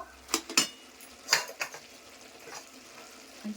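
A metal pot lid is lifted and utensils clink against a cooking pot as green chili and sugar are added, giving a few sharp clanks and scrapes followed by quieter kitchen sounds.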